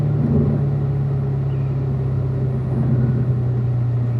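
Car on a race track, a steady low engine rumble heard from inside the cabin, holding fairly even with only slight changes in pitch and no clear braking sound.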